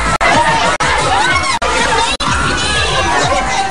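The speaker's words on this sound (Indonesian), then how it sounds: "Suara teriakan mengeluk-ngelukkan, sorotan kamera dan tepuk tangan yang meriah sontak diberikan oleh penonton" Crowd at a children's fashion show shouts and cheers loudly and continuously, with a dense wash of voices and a few short breaks in the roar.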